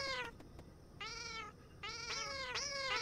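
A house cat meows several times in a row, fairly close and clear, with short pauses between the drawn-out calls against quiet room noise.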